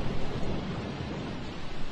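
A thunderstorm roars as a dense, steady rumble of rain and wind noise, loud and continuous with no distinct gaps.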